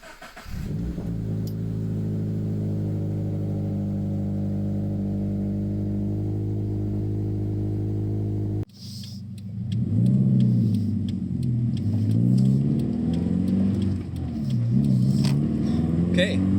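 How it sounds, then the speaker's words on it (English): A car with a 6-speed manual gearbox idles with a loud, steady engine drone from close by. It then revs and accelerates with rising and falling engine pitch while the window is open. "you can hear my motor there"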